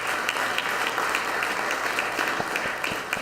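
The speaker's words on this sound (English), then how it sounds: "I want to say a big round of applause and thank you to Oceanside" Applause at a city council meeting, dense sustained clapping from a crowd that fills the room evenly for a few seconds with no pause.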